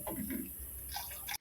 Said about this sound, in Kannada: ಗಡ್ಡೆ ಎಲ್ಲ ಮುಳುಗೋಷ್ಟು ನೀರು ಹಾಕಿದ್ರೆ ಸಾಕು